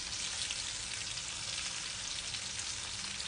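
Snoek roe fries in hot oil in a pan, giving a steady, close, bright sizzle throughout with no talking.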